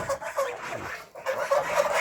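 Chickens on a home farm, kept among ducks and geese, cluck in short, repeated bursts nearby, the calls rising and falling over a quiet background.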